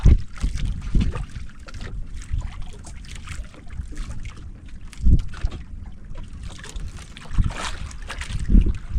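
Strong wind buffets a small fishing boat at sea, roaring across the microphone with low gusting thumps and splashy water noise. The bursts swell and fade repeatedly, with no talk heard.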